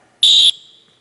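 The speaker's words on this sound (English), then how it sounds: "Did not mean to whistle." A single loud, shrill gym whistle blast in an indoor gym class, held steady for about a third of a second and then fading into a quiet room echo.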